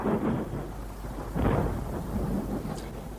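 Low rolling thunder from a passing storm rumbles on and off, with a heavier swell midway, fairly faint and distant-sounding, with no voices.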